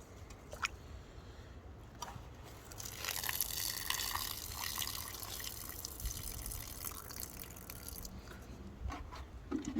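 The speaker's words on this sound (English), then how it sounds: "So I'll first just put some water, just stir it around just to wash off some stuff that might be there." Water is poured into a pot of khichdi rice and lentils at a campfire and swirled to rinse the grains, a few drips then a sustained close pour and sloshing before trailing off.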